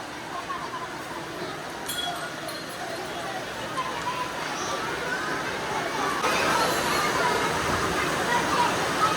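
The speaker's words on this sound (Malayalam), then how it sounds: "നല്ല മഴയാണ് കേട്ടോ" Steady heavy monsoon rain hisses throughout at a school Onam feast, a dense wash of noise with occasional clinks and voices murmuring underneath.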